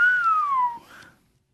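A single drawn-out whistle of amazement, falling smoothly in pitch then lifting briefly before trailing off, close and clear with no talk.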